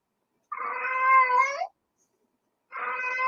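A cat gives two clear, loud meows close by, the first drawn out for about a second and the second starting after a short silence, with no talking over them.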